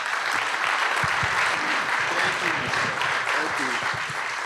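Steady audience applause at an education conference in Fresno, dense clapping from a crowd that continues evenly throughout, with a voice faintly audible beneath it.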